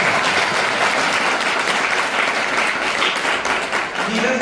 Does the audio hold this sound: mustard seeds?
no